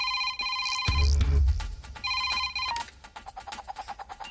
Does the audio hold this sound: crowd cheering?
no